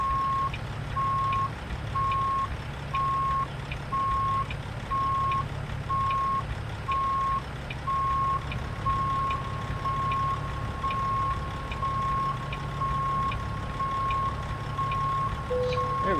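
In American Truck Simulator, a truck's reversing beeper sounds a steady, evenly spaced series of loud single beeps over the low hum of the engine, running unbroken for the whole stretch.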